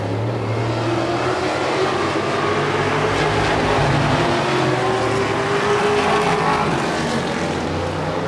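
Modified race cars in a heat race at Dells Raceway Park, a continuous loud engine roar from the pack, steady and droning with rising and falling pitch, with no talk.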